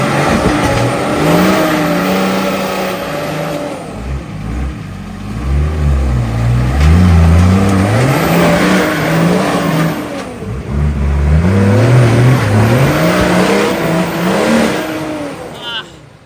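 A turbo-diesel 4WD revs hard as it climbs a steep, wet dirt hill track. The engine surges loud and close in repeated rising and falling bursts, with a sharp clutch kick partway through.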